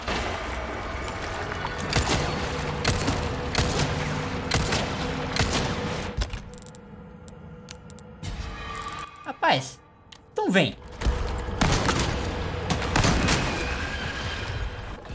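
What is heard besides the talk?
pistol shots and gunfire in video game Resident Evil 4 Remake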